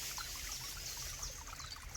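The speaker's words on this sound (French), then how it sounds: "le bruit de la rivière qui coule" A river flowing outdoors in the woods, a soft, continuous trickling and rushing stream heard faintly and steadily throughout, with no voices.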